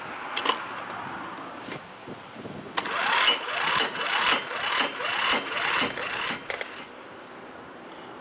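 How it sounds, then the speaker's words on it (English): An impact wrench loosens the variator bolt on a scooter, a buzzing rattling burst of rapid hammering in the middle, fairly close, between quieter mechanical clicks. "right after we lose a little bit the bolt right here with the impact wrench"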